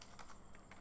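Typing on a computer keyboard, a quick uneven run of soft close key clicks over a faint background hum.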